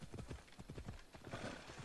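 Horse hooves beat out a quick, steady galloping rhythm, faint and even throughout.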